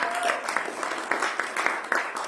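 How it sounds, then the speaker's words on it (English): A church congregation claps their hands together, with distinct overlapping claps in a fairly steady rhythm, moderately loud and close, and a voice faintly present at the start. "Let's give Jesus a big hand clap."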